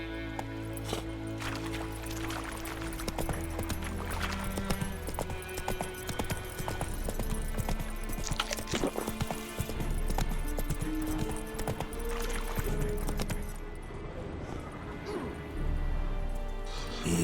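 Hoofbeats of Roach, Geralt's horse in The Witcher 3 next-gen update, clip-clopping steadily and close throughout, layered over a dense game music bed with an occasional whinny-like sound and some voice.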